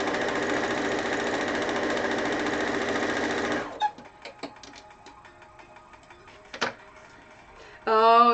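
A sewing machine stitches a quilt border, running as a loud, steady motorized whir for several seconds before stopping, followed by quieter scattered clicks and handling noises and a brief renewed burst at the end.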